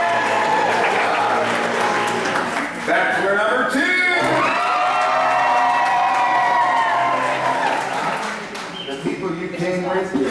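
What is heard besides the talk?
audience applause and cheering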